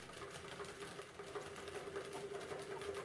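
Small battery motor of a toy robot duck whirs steadily and continuously up close, a constant buzzing drone with no talk.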